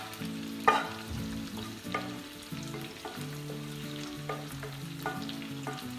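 Roasted red kapya peppers and mushrooms stir-fried together with monkfish in a pan: a continuous close sizzle with scraping stirs and occasional sharper clanks, and a faint musical backing underneath.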